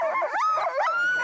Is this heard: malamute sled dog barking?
yes